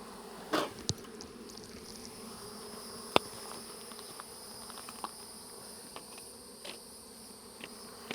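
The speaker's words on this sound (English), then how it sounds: "Smoke our bees down." Faint, steady honey bee buzzing around a hive fills the air outdoors, with a few soft clicks and knocks scattered through; no voices.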